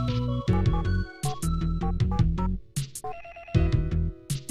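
An electronic telephone ring from the Famicom game Famicom Detective Club II repeats in bright, bouncy bursts, with layered synthetic tones.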